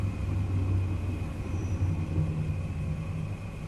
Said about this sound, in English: you hear the revs starting to creep up.